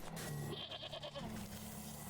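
Goats in a video game, Wytchwood, bleat in short wavering cries over a steady background hum, a couple of calls overlapping in quick succession.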